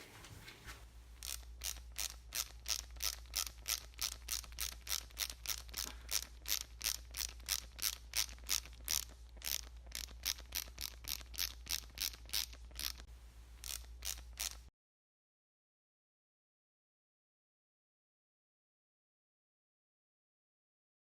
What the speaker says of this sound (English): We need the 10mm wrench again because they are bolted in. And we're going to take those bolts out.